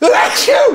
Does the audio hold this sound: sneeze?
yes